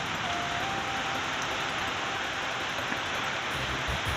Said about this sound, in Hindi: कितना भयंकर बारिश पड़ रही है